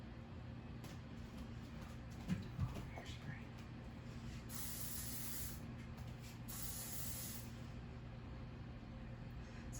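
Hairspray is sprayed onto a male ballet dancer's hair in a couple of sustained hissing bursts over a steady low background hum, with faint voices nearby.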